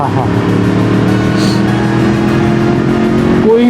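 A Yamaha R1 motorcycle with a tuned fuel map and PCV fuel injection tuning hums through a steady engine drone, rising into a brief rev at the end, with someone talking over it.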